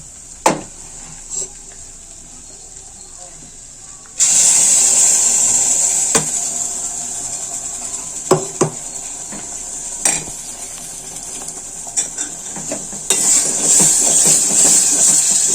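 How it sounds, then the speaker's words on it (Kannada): Ground masala stirred into hot oil in a cooking pot, a steady loud sizzle with the spoon knocking and scraping the pot at irregular intervals, close up and without talk. "ಇದನ್ನು ಇವಾಗ ಎಣ್ಣೆಯಲ್ಲಿ ಸ್ವಲ್ಪ ಕೈಯಾಡಬೇಕು."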